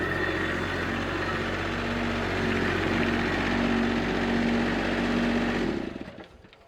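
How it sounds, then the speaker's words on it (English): A rented stand-up tracked skid steer, a bucking bronco, runs steadily as a loud continuous engine drone with a low rumble, holding for several seconds before cutting off abruptly near the end. "It's basically like a stand-up skid steer."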